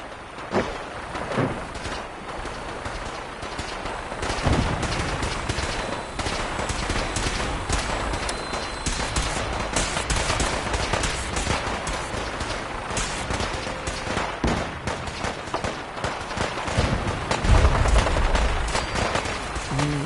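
Dense, continuous video game gunfire in Fallout 4, a steady barrage of overlapping shots and bursts with a few heavier booms, sustained at moderate loudness throughout with no clear talk.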